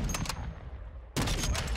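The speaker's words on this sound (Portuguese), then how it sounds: "tô ouvindo o barulho do tiro ali" Rapid bursts of gunfire in the Call of Duty video game: a sharp volley, a brief lull, then another loud burst of shots close by.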